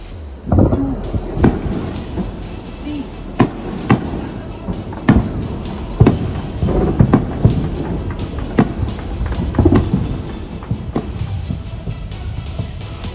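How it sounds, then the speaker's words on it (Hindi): Distant artillery shelling booms in scattered, irregular dull thuds and sharper cracks over a low, rumbling background that lasts throughout. "दूर से जो आवाज है वो शेलिंग की जरूर आ रही है"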